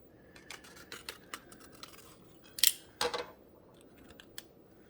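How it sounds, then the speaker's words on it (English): Scissors snip open a Lipton iced tea K-Cup, a few crisp cuts and crackling of foil and plastic close up, with light rustling in between, no talking. "So let's cut one open and see what it did."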